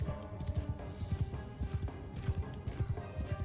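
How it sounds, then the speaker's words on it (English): Horse hooves clip-clop in a steady, rhythmic trot in the samurai video game Shokuho, loud and close, with no clear neigh standing out and no speech. "Did you see that horse fly up in the air?"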